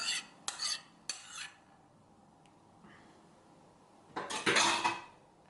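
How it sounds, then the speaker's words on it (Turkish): Spatula stirring and scraping an egg yolk and olive oil mixture in a bowl for grain-free bread, with a few short scraping bursts near the start and a louder stretch of scraping toward the end, no talking. "Şununla sıyıracağım. Hepsini alacağım spatulamla. Güzelce karıştırıyorum."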